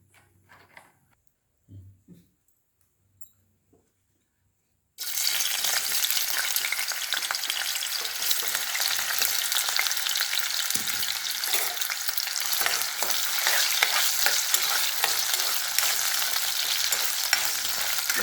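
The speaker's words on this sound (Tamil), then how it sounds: "இப்போ உருளைக்கிழங்கை வந்து ஃப்ரை பண்ணுறது கொஞ்சமாக எண்ணெய்" Potatoes hit a little oil in a hot kadai for aloo matar: after a few quiet soft clinks, a loud, steady broadband sizzle starts abruptly and carries on evenly, with occasional stirring scrapes underneath.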